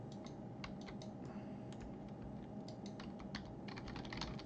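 Quick, irregular keystrokes clatter on a computer keyboard during SketchUp modelling work, faint and close-up with short pauses between bursts and no talking.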